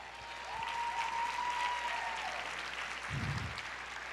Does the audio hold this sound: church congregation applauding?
yes